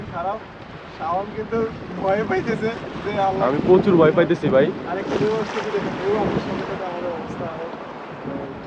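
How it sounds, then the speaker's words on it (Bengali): Someone talks anxiously over steady wind and surging sea water as a small boat rocks among the waves off Saint Martin Island. "এই যে দেখেন কি ঢেউগুলো আসতেছে"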